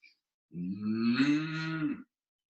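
A person imitates a cow with one long, loud, droning moo lasting about a second and a half during a yoga session, alone against silence.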